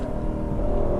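A naturally aspirated V8 sedan engine downshifts into second gear, producing a sustained throaty engine drone and rumble from inside the car with no break.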